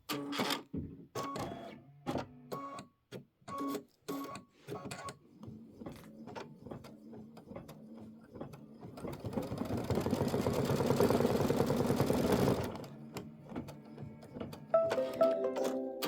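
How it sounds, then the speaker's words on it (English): An embroidery machine stitches a stripe placement line on a quilt, giving rapid, irregular mechanical taps and clatters up close, with a denser whirring burst partway through before the tapping resumes. "So right now it's stitching the stripe placement line."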